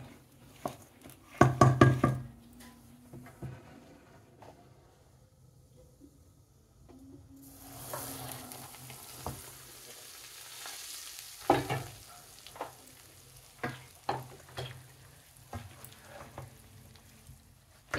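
Hot oil poured over raw mango pickle with salt and stirred in a bowl, giving a brief burst of sizzling followed by a scattered run of scraping stirs and light knocks close by, with no voices.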